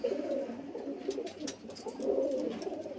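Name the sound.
Madrasi pigeons cooing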